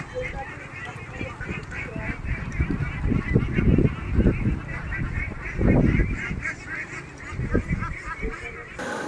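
A large flock of domestic ducks in a Gazipur village quacks and honks loudly and near, in overlapping bursts that swell and fade continuously throughout.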